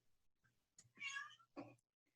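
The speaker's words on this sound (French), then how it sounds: "est-ce que vous entendez mon chat?" A house cat meows twice, a drawn-out cry followed by a shorter one, close and clear in a quiet room.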